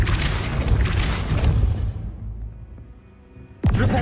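Depulso spell cast in Hogwarts Legacy, a deep booming burst that fades into a low hum with faint tones, followed by a sharp new impact at the end.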